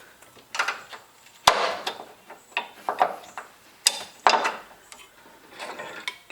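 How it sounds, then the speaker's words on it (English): Metal clanks and knocks as a pry bar levers down on the end of a 2010 Mazda3 front sway bar to free it from its bind, several sharp strikes mixed with creaks and rattles, close up and without talk. "putting a pry bar on the end of the sway bar, pushing down to release it from the bind"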